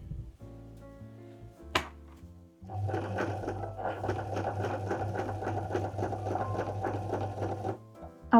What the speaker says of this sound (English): Back to sewing.